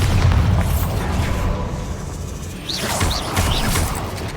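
Booming blasts and crashing rumble from the Bombardo spell in Hogwarts Legacy, a loud sustained low roar with debris-like crackles and a few sharp bursts toward the end.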